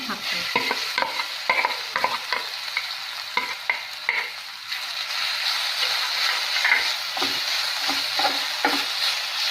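Grated potato frying in hot oil in a pan, a steady broad sizzle with repeated scraping stir strokes cutting through at close range, no voices.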